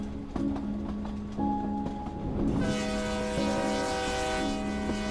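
A train rolls along the rails with rhythmic clicks, and a loud sustained horn blast sounds partway through over the steady rumble.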